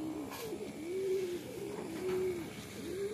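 Several pigeons coo in overlapping, repeated rolling calls close by, forming a soft continuous chorus with no talking.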